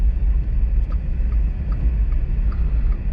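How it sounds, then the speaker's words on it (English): A car drives along a street in Grindavik, Iceland, a steady low road rumble and engine drone from inside the vehicle, with faint regular ticking sounds above it. "There's a car behind us, so I suppose I have to let them by."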